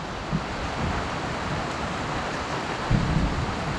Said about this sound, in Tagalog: Biglang umulan po mga kaparambin no.